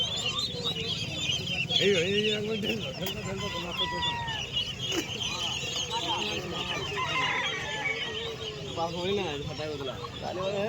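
Chickens cluck and squawk steadily at a poultry stall in a busy morning village market, with crowd chatter and voices running underneath throughout.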